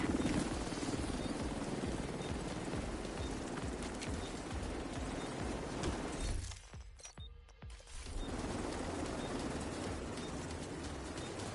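A helicopter in Rainbow Six Siege holds a loud, dense, continuous rotor roar that drops away briefly for about a second, then returns just as strong.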